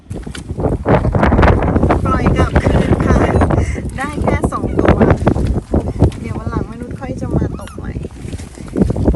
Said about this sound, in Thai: ลมแรงเกิน